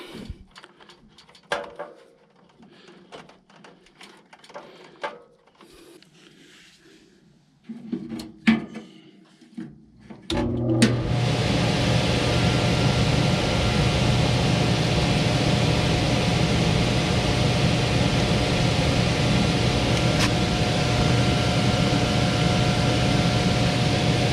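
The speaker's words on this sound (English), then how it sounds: "We'll check the amps on this blower motor" A home central air conditioning blower motor starts after some clicks and handling noises, then runs as a steady, loud hum and whoosh of moving air that continues without change to the end.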